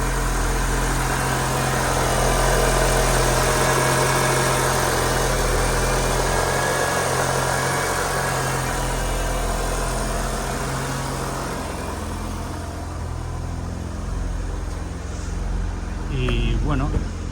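A Mitsubishi Lancer Evo VIII engine runs steadily at idle, a loud, constant low rumble with a slight rise in level near the start and faint shifts toward the end.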